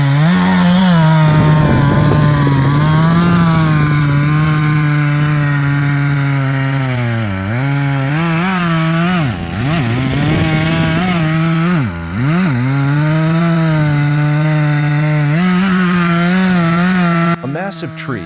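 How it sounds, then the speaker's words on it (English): A chainsaw bites deep into a massive tree trunk, its engine snarling loud and steady for the whole stretch, pitch sagging and recovering in repeated dips as the blade is pushed into the wood again and again. "The chainsaw operator pushes the sharp blade deep into the wood, again and again."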